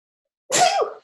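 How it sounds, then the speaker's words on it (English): A single sneeze bursts out of silence, a sharp breathy explosion with a quick voiced tail, close and loud. "Hold on, I'm going to sneeze here."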